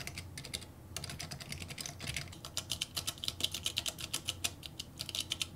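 Typing on a Splitography keyboard fitted with Matias quiet switches: a quick, irregular run of soft clacking keystrokes, close up and continuous, with no voices.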